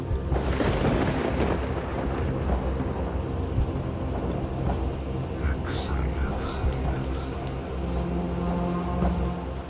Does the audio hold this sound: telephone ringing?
no